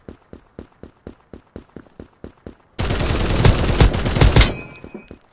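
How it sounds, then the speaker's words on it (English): Submachine gun firing in the video game Krunker: a series of evenly spaced single shots or footsteps first, then a loud, continuous automatic burst lasting under two seconds, ending in a tail of ringing effects. "Submachine gun. Let's go kill some noobs."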